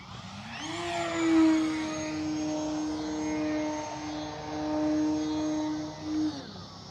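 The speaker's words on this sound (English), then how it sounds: "Absolutely gorgeous plane." An E-flite Beechcraft D18 electric RC model airplane, a 1.5 m twin, flies past with a sustained whirring motor drone that swells and fades slightly as it passes, with no voices.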